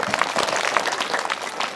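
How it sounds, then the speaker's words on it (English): A school audience applauding for the captains, a dense burst of many hands clapping together, steady and moderately loud for about two seconds. "2 claps for our captains."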